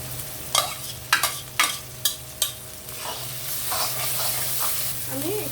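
Goat brain frying in a pan with chilli, turmeric and coriander powder, a steady sizzle broken by several sharp scraping stirs early on, then a louder continuous hiss.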